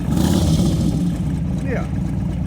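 Motorcycle engine idling and revving once as the throttle is blipped, a steady close rumble with a brief rise, while people talk nearby.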